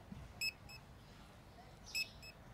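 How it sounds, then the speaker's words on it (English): Short electronic checkout beeps from the Supermarket Simulator video game, two quick bright tones spaced about a second and a half apart over a quiet store background. "The constant beeping. Yeah, supermarkets are like that. Just hear beep, beep,"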